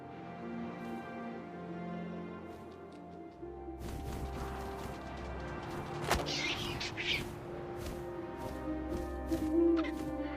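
An owl hoots in the exploration game What Remains of Edith Finch, low calls rising over soft wind and ambient tones, with thuds and faint sharp clicks joining later.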